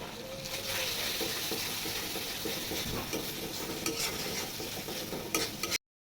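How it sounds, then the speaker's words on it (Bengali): Ground black pepper and spices frying in a pan for a duck curry, a continuous close sizzle with steady stirring scrapes, ending abruptly, with no talking. "এই উপকরণগুলো সুন্দরভাবে ভেজে নিতে হবে"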